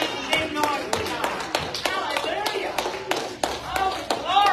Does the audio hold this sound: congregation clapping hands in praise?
yes